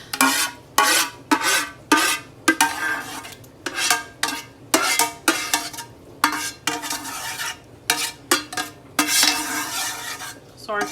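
Utensils stirring and scraping a sauce through a sheet pan dinner, with repeated rhythmic metallic clatter and scraping strokes up close, a faint sizzle underneath.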